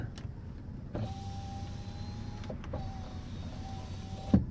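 Power windows on a Mercedes-Benz C280 4Matic sedan running in two long motor whines, one about a second and a half and a shorter one after, each ending in a soft clunk, heard close inside the car with no talk.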